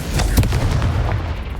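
Booming blast from the Confringo fire spell in Hogwarts Legacy, a deep rumbling burst with sharp crackling transients around the start, sustained low roar fading over under two seconds.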